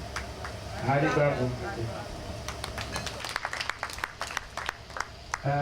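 Scattered claps from an audience at the launch of the Debor Zero Hunger Foundation, starting after a stretch of talk and continuing as sparse, sharp hand claps mixed with voices in the room.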